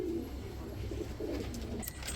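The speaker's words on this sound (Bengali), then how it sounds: "ভাই বোম্বাই কবুতর ভাই" Bombay pigeons cooing softly at a pigeon market, low repeated coos close by over faint background noise.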